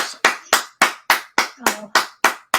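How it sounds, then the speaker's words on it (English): Slow, even clapping from a single pair of hands during a virtual interview show, about nine crisp, close claps in a steady rhythm with brief gaps between them. "give Miss High a virtual round of applause"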